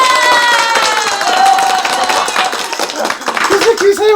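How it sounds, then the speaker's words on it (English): An audience at a live equestrian show claps and cheers steadily, loud and close, while a voice talks and a few high whistles cut through. "we got more clapping"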